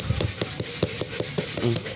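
A small hammer taps lightly and rapidly, about a dozen evenly spaced close strikes, during work on a Toyota Vios camshaft VVT-i sensor. A voice briefly joins near the end.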